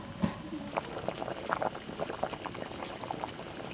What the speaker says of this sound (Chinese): 加点盐，小火再炖1个小时，焖半个小时。